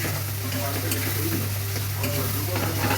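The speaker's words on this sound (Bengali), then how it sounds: "এবার আস্তে আস্তে কষা কষা হবে, পুরো মশলাটা ভাজা হবে।" Spice paste being stir-fried in a pan for vegetarian khichuri, a steady sizzle with scraping stirs throughout, close and even, with no talking.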